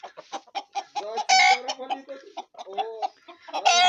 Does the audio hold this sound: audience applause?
no